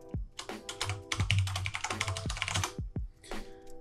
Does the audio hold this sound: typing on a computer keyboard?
yes